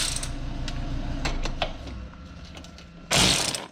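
A ratchet with a 14mm socket working on clutch bolts, with quick metallic ratcheting clicks followed by a louder burst of rapid clicking near the end, close up and with no talking.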